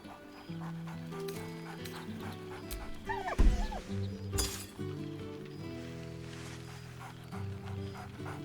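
A dog barks merrily in the video game Baldur's Gate 3, a few short excited yips midway over soft game music, with a clink and a brief louder burst.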